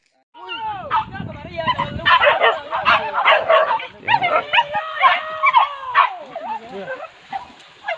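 Hunting dogs bark, yelp and whimper excitedly during a wild boar hunt in the scrub behind the IAIN Jambi campus. The calls come close and in rapid, overlapping bursts that continue almost without pause.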